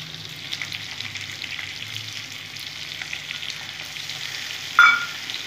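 Potatoes and tomatoes frying in a pan, a continuous close sizzle with light stirring, ending in a short sharp clink of the spoon against the pan near the end; no talk.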